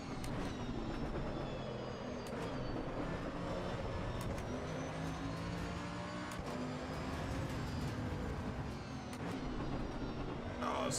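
Car engine driving in the racing game Assetto Corsa Evo: a steady, continuous engine drone with shifting tonal lines runs throughout, loud and unbroken, with no clear speech over it.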